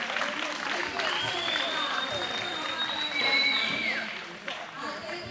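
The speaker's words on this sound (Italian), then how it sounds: "È un bel applauso per lui, meritato." A crowd applauds a lifter at a Sardinian regional single-lift powerlifting championship, a soft, distant patter of clapping with a couple of sliding whistles, while a commentator talks over it.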